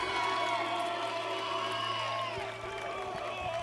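Crowd at a collegiate pickleball national championship cheering and whooping steadily, a dense roar of voices with scattered shouts and a few sharp claps near the end.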